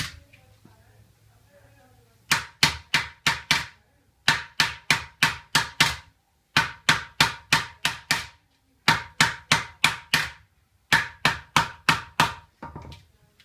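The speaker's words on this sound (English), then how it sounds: "It's done just like with a blocking hammer like this." Repeated sharp metal blows of a blocking hammer shaping silver for a candlestick, in quick bursts of about five to eight strikes separated by short pauses, close and loud, with no talking.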